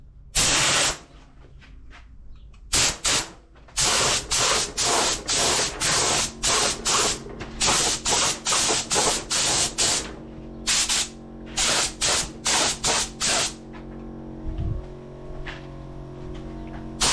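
A thick layer of paint goes on in a series of loud spray bursts, some long and some short, with brief quiet gaps between them and a faint low hum in the background.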